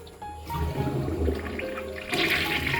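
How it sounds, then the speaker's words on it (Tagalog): A toilet flushes nearby, a rushing gurgle of water that surges louder toward the end. "yung CR natin, pwede na po siyang i-flush."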